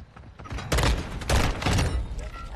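Dense bursts of assault rifle gunfire in a video game, loud and close, rising in rapid volleys with thumping impacts over a steady rumble.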